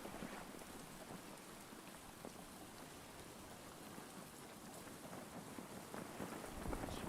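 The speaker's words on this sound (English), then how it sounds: "Is it just a drizzle?" Light drizzling rain falls in the survival game Stranded Deep, a steady, soft, dense patter with no talking.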